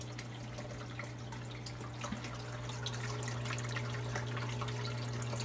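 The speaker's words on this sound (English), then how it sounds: "the PVC pipe leads down into these two longer PVC pipes that bring the water down" Water trickling and dripping steadily as it flows down PVC pipes into an aquarium sump fed by an overflow box, under a constant low pump hum, close and without speech.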